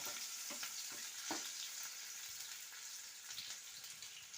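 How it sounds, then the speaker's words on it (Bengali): Onion frying in oil with black cumin (kalo jeera) in a pan, a steady close sizzle with scattered sharper pops and occasional stirring clicks, no talking. "পেঁয়াজটা এখন আমি একটু লাল লাল করে ভেজে নেব"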